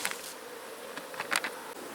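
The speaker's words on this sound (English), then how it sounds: "These bees I'll knock back into the box or around the box" Honey bees buzz around a hive box during hive splitting, a continuous close insect drone with brief louder swells as individual bees pass near.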